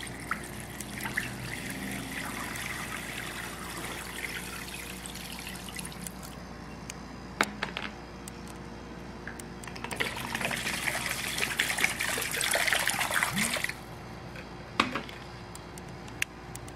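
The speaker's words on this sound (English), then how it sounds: "we're gonna go ahead and submerge this iPhone 4" An iPhone 4 lowered into water, with steady gushing and trickling water, a louder surging stretch midway and a few sharp knocks, close and continuous.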